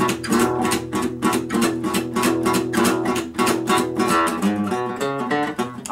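Acoustic guitar playing a boogie tune at a brisk tempo with swinging feel, driving chugging strums and bass notes in a steady rhythm, close and loud with no talking.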